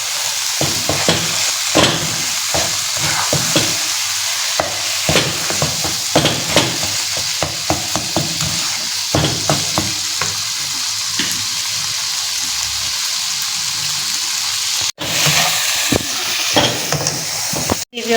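Eggplant masala for baingan bharta stir-fried in ghee, a loud, steady sizzle with rapid repeated spatula scrapes and clatters against the pan, close up, with a sharp knock near the end and no speech.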